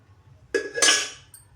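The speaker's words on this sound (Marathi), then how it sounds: "छान असं हलवून घ्यायचं आहे डाळीला" A spoon clinks and scrapes against a metal pot of moong dal a couple of times, close and sharp, then fades.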